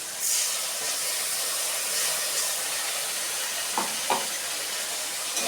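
A paste of ground onion, ginger and tomato fries in a pan with soybean, a steady close hiss of sizzling with a couple of soft stirring knocks near the end, no talk.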